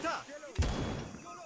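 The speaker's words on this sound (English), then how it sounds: "So there's that 50 cal firing at these crazy guys." A .50 caliber machine gun fires in the Vietnam-themed Arma 3 video game, with one sharp, heavy report and a rumbling echo tail while someone talks before and after it.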